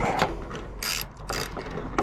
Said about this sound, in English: socket wrench on the top.